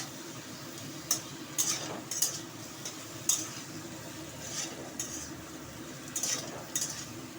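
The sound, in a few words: stirring amaranth stems and potatoes with salt in pan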